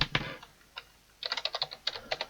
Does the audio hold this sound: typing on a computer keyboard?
yes